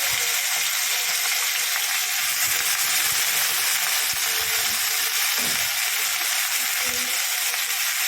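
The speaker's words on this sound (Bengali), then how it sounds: "কড়াইয়ের মধ্যে দিয়ে দিচ্ছি সব ভেন্ডিটা আলুটা।" Okra and potato fry in hot oil in a wok, giving a steady, loud, hissing sizzle that runs throughout with no break.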